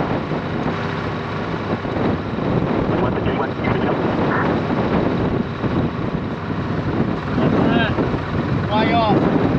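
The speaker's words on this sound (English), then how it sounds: "I'm just filming the wind change." Strong wind roars during a bushfire in 44° heat, a loud continuous broadband rush buffeting the microphone, with faint voices and brief tonal sounds near the end.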